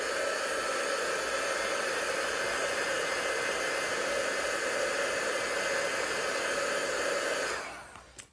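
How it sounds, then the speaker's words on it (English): A heat tool blows steadily on craft material, a loud continuous whooshing hiss held for several seconds before it is switched off and winds down. "just take my heat tool and make sure this is all dry"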